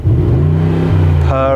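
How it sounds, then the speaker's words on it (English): A 2021 Mercedes-AMG GLE 63 V8 with its exhaust in the loudest setting revs steadily and loudly, holding a deep droning note before rising sharply near the end as it hits the soft limiter. "This is the exhaust in its loudest setting as well."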